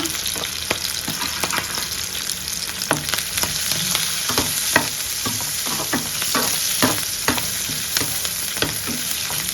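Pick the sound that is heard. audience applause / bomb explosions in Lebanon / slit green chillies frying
slit green chillies frying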